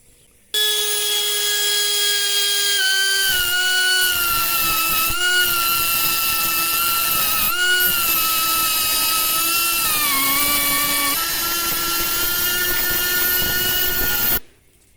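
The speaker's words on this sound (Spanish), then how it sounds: "voy a utilizar esta moladora neumática o esta eléctrica según las necesidades" A pneumatic grinder whines with a steady, high tone while working a granite gravestone, changing pitch now and then as it bites into the stone, with brief dips along the way.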